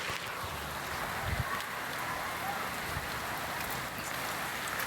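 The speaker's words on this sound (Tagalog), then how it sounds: "At maulan dito sa amin guys." Steady rain falls outdoors as a dense, even patter with a soft wash of wind or water. No one speaks.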